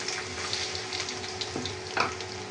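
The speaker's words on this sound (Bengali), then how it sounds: "তেলের মধ্যে এখন আমি পেঁয়াজটা দিয়ে দেবো" Onions frying in hot oil in a pan, a soft, steady sizzle close by with a couple of brief clinks or stirring sounds, no talk.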